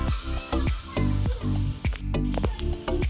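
Coriander and cumin seeds fry in a pan for a cluster bean kurma, a steady close sizzle broken by repeated scraping stirs and light clinks of a spoon against the pan.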